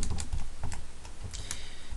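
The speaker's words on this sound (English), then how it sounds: "Just having some problems typing things into the calculator here" Rapid plastic key presses on a calculator, light irregular clicks tapping out numbers in a quick continuous flurry, close and dry with no voices.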